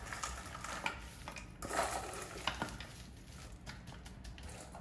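Carrots and mushrooms tipped into a pot of bœuf bourguignon, giving a soft, low-level clatter and rustle of vegetables landing, with a few light knocks against the pot.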